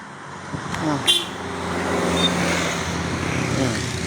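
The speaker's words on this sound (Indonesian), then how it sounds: "Oh, mobilnya sampai ngebut lah" Cars speed past on a straight, smooth road, a broad rushing swell of engine and tire noise building toward the end, with a brief honk near the start over a steady roadside hum.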